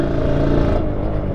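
Kawasaki Ninja SS motorcycle with a ported engine, PWK 28 carburetor and Cobra exhaust holds a loud, steady, close engine drone with a slight shift partway through, and no one talks.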